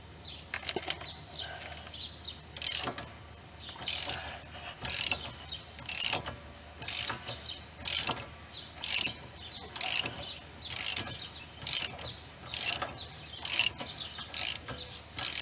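Socket ratchet clicking in repeated bursts while working on the rear toe link of a Pontiac G6, a steady rhythm of about a dozen ratcheting strokes, close and fairly loud, with no talking.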